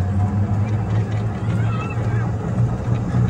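An EZGO TXT golf cart fitted with a 48-volt lithium battery climbs a steep neighborhood hill, giving a steady low motor hum with road and wind noise under brief voices.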